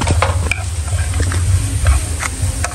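Chicken frying in a pan, a continuous sizzle with crackling pops and scattered ticks of stirring, close and fairly loud, with no talk.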